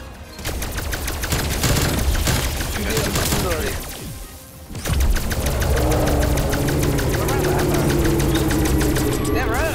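Sustained rapid-fire gunfire from a zombie shooting video game, dense repeated shots with a brief lull midway before the firing resumes, loud and close with voices talking over it.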